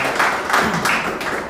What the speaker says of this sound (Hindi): एक बार उनके लिए तालियां बजा दीजिएगा जिन्होंने अब तक परफॉर्मेंस की है